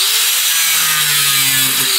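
A power cutting machine slices through material with a loud, steady, grinding whine that holds for about two seconds, then cuts off abruptly. No one talks.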